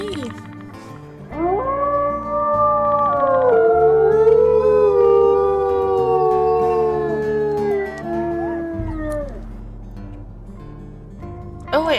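Several wolves in the video game WolfQuest howl together in long, overlapping rising and falling tones, loud and close, sustained for about ten seconds.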